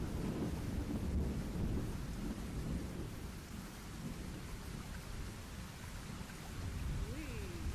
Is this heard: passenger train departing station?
no